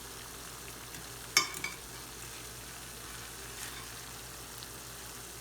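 Barbecue seitan with onions and garlic cooking in a pan, a quiet steady sizzle broken by a few sharp utensil clinks and scrapes.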